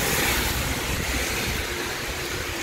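Heavy rain pours down amid strong wind during a flood near a river, a dense, steady roaring wash of noise that holds at an even loudness throughout with no voices.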